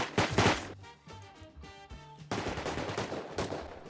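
Gunfire in the video game Rust: a loud close burst of shots at the start, a pause with tonal game sounds, then another sustained rapid volley of automatic fire.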